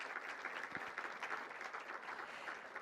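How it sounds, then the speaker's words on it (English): Audience applause for Naira Wadley as she is announced among the Rose Queen finalists, a dense, steady round of clapping from a sizable crowd, sustained at an even level throughout. "Big round of applause for Naira."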